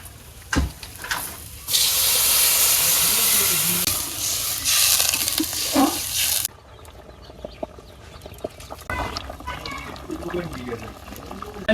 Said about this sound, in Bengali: ডাল টালা হয়ে গেছে এবার পানি দিয়ে দেয়